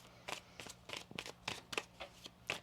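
A tarot deck being shuffled by hand: a quiet, close series of crisp papery riffles and slaps, about ten soft bursts in an uneven rhythm, with no talking.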